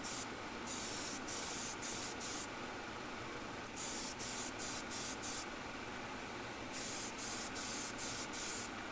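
An airbrush sprays a thicker final coat of Vallejo paint, a close steady hiss broken by several short pauses as the trigger is released and pressed again, with no talking.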